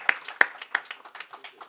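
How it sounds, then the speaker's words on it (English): Scattered claps from a small conference audience, a few sharp near hand claps then a thinning patter of applause. "Please give us a big applause"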